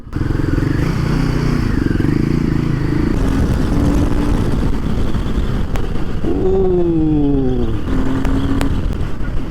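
A Royal Enfield Himalayan 450 motorcycle riding at speed gives a steady bassy exhaust drone under heavy wind rush, and the engine note rises and falls as it shifts through revs.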